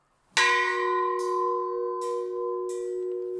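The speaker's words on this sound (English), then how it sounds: "Scouts were signaled to rotate to the next activity by a Scout leader striking a bell at the chapel." A bell struck once at a chapel to signal Scouts to rotate between activities, ringing out with a sharp strike and a long sustained, slowly fading hum with faint shimmering pulses.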